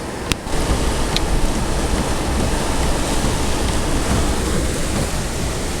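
The Zeballos River in flood from rain on snow, rushing white water spilling up over the road surface, a continuous loud, close broadband roar with no break.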